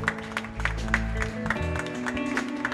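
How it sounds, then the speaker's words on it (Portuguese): A church congregation claps in a steady, fairly faint patter of applause, with music or sustained tones running underneath. "Dá uma grande salva de palmas ao Senhor."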